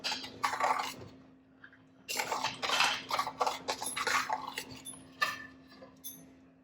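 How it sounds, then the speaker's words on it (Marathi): A metal spoon stirs varanfal in a pot after tempering is poured in, close rhythmic clinks and scrapes against the vessel in bursts, with a short pause partway through. "याला छान मिक्स करायचं आहे"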